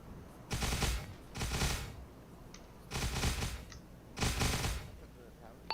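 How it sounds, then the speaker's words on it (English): Bursts of automatic gunfire in the military simulation game Arma, four sustained rattling volleys each lasting about half a second to a second, separated by quieter pauses, moderately close. "Firing at us from downrange."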